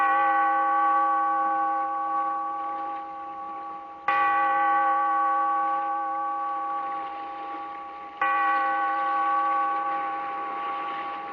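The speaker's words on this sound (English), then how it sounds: "Bellkeeper, toll the bell, so that all may know we are gathered again" A deep church-style bell tolls three times in slow, even succession, each strike ringing out with rich sustained overtones that decay gradually before the next, heard alone and fairly near.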